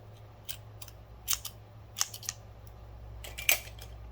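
Scissors snip through purple yarn during tapestry crochet, a few quiet, crisp cuts spaced irregularly over a low steady hum.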